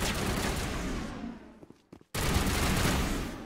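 Dense, loud volleys of gunfire fill a Mass Effect Legendary Edition firefight, a sustained crackling barrage that briefly drops away into a few isolated shots before resuming at full intensity, with no speech.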